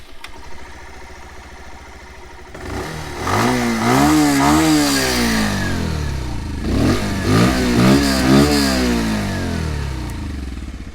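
A 2022 Bajaj Pulsar 150 motorcycle idles with a steady thrum, then its exhaust is revved in two bursts of quick, rising and falling blips before settling back to idle.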